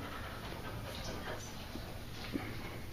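A dog pants steadily at close range during a body-handling session outdoors, soft rhythmic breaths with a faint whimper, over a constant background hiss.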